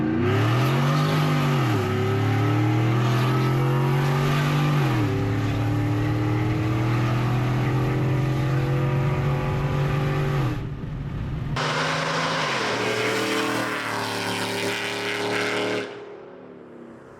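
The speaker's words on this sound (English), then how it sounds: "This truck is so loud, it's like ridiculous." A loud supercharged 500 HP GMC Sierra regular cab short bed pickup engine with headers revs hard repeatedly, rising and falling in pitch, then roars with a harsh, raspy exhaust before cutting back near the end.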